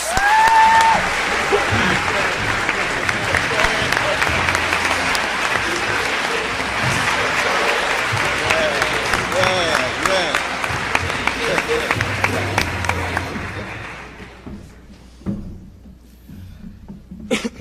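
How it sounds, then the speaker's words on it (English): An audience at a Princeton hip-hop symposium applauds Congresswoman Maxine Waters, sustained loud clapping from a full room with a few brief voices early on, fading away over the last few seconds to near quiet. "Please give a round of applause to Maxine Waters."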